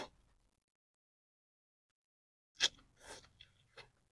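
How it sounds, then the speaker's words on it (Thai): Dry noodles being eaten, spicy Thai style, with a sharp close crunch followed by several soft chewing bursts after a long quiet stretch. "มากินก๋วยเตี๋ยวแห้งน้ำกันครับ"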